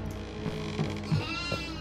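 Goat bleating in the horror video game Devour: several wavering bleats in quick succession, fairly close and clear over a low ambient drone.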